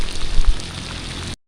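Steady rain pattering on surfaces outdoors, a dense continuous hiss with some heavier splashes early on, then cutting off abruptly.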